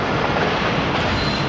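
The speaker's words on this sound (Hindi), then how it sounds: "रहीम यार खान पहुँच रही है ट्रेन" The Hazara Express pulls into Rahim Yar Khan station, heard from on board as a loud, steady rumble of wheels and carriages with rhythmic clatter and a thin squeal of wheels.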